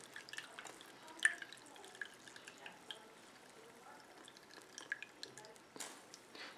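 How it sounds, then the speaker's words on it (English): Water dripping from a squeezed, soaked sponge: faint, scattered drips and small splashes in a quiet room, with one sharper drop standing out near the start. "I'm going to squeeze a little of the water out"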